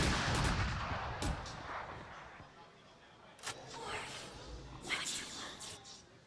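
Gunfire from the tactical shooter Valorant during a VCT Americas pro match, rapid bursts and sharp cracks in quick succession beneath excited casters' commentary, moderately loud and clustered.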